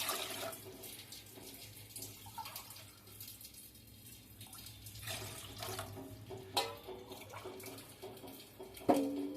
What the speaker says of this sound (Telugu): వాటర్ అయితే పోస్తున్నాను